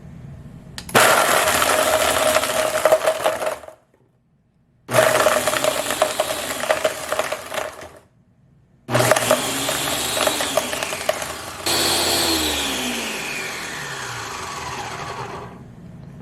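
A Ninja BN701 Professional Plus blender runs in loud pulsing bursts, whirring hard for a few seconds, stopping briefly, then roaring again. The pitch shifts as the contents break up, close and with no talk.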